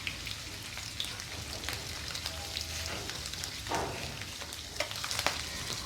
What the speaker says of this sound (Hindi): तो ये देखिए चीज़ हमारा अच्छे से फ्राई हो गया है